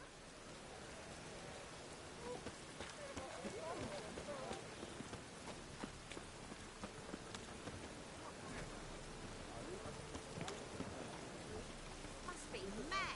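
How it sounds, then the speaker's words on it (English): Steady rain falls in The Witcher 3 video game, a dense, even hiss with scattered drop patter that continues throughout. "Must be mad running around in this rain."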